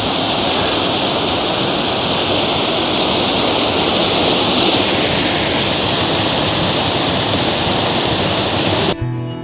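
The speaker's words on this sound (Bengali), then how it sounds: "ঢুকেই কিন্তু রয়েছে একটি সুন্দর ঝর্ণা।" A waterfall just inside the entrance of Green Valley Park in Lalpur, Natore, rushing loudly and steadily as a dense roar that carries on unchanged, then cuts off abruptly at the end.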